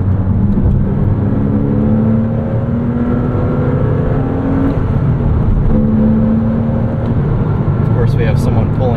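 A 2006 Porsche Cayman S with a six-speed manual drives along, its engine droning loudly from inside the cabin with tones that rise and settle through revs and shifts, and a steady road roar underneath.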